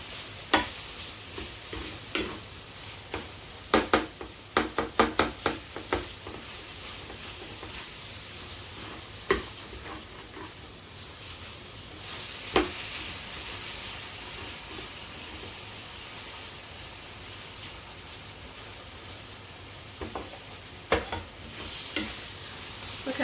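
Seasoned ground meat with Southwest spice browning in a single pan, a constant soft sizzle broken by scattered sharp clicks and scrapes of a utensil, faint and without talk.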